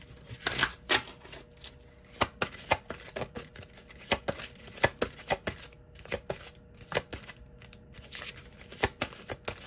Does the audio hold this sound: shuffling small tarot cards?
yes